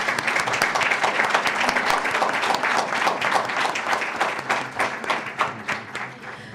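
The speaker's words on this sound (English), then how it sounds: "Please join me with a round of applause to our speakers for their" A conference audience gives its speakers a round of applause, dense steady clapping from a crowd that carries on throughout and begins to thin and fade toward the end.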